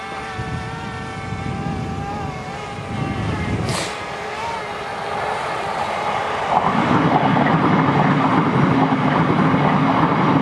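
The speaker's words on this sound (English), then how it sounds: "Got a train going by." A train rumbles past with a sustained hum and rolling clatter, growing heavier and closer partway through before holding steady.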